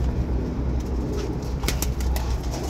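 Pigeons cooing at close range, soft repeated low coos over a constant rumble of background noise, with a few sharp clicks and rustles toward the end.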